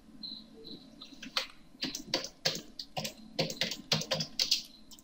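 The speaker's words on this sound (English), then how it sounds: "Command line, you can type here." Keys clatter on a computer keyboard as a command is typed, a quick irregular run of close, crisp clicks with brief pauses, no talk over it.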